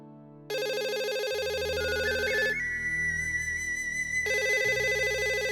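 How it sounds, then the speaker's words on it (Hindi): A telephone rings with a loud electronic ringtone melody that plays steadily in repeating tonal patterns, close and clear, with no talking over it. "इस वक्त किसका फोन हो सके?"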